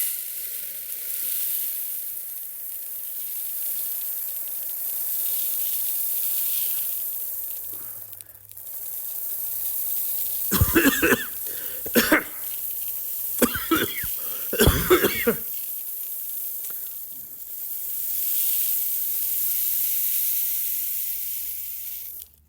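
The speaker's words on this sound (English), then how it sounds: "As you can hear, these are a bit smoother as they flow from one bucket to the other" Red rocket hot pepper seeds pour from one bucket into another, a steady soft granular hiss that runs throughout, with a few louder, rougher bursts of pouring near the middle.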